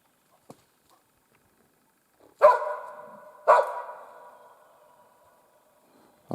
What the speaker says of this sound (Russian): По голосу собака там или зверя лает, или боровую дичь, или кто-то еще.